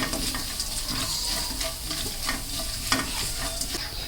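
Chana dal stirred and fried in a pan for drumstick leaf palya, a close, busy sizzle broken by repeated scraping strokes of the spoon at an uneven rhythm.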